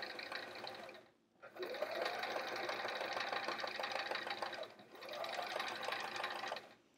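A sewing machine stitches a curved half-inch seam on a fabric art folio, running in two long sustained bursts with a brief stop between them, close and fairly even, its motor pitch climbing as each burst begins.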